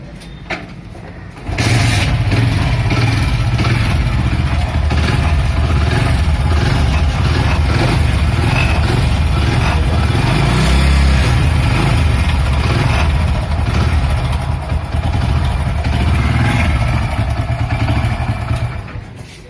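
Hero Splendor motorcycle engine starting and then idling steadily nearby, a loud continuous low thrumming putter with slight mechanical clatter, running alone without talk.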